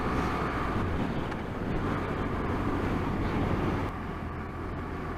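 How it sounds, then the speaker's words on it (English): Strong wind rips across an exposed stretch of the Scottish coast, buffeting hard in a dense, loud low roar that stays constant throughout and eases slightly near the end. "I don't know if you can hear the wind, it's ripping across here."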